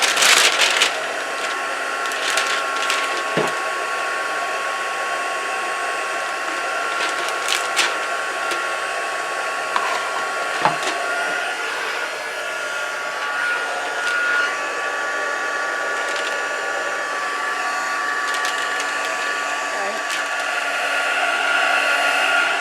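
A heat gun blows on shrink wrap around a sublimation tumbler with a constant loud rushing whir, steady for the whole stretch, with occasional small clicks and taps underneath.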